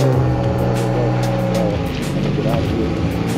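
A BMW car moving off, its engine note rising steadily and close, with a person talking over it.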